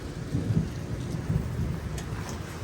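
A thunderstorm with rain, a continuous patter of rain over low rolling thunder rumbles heard close and alone, with no voices.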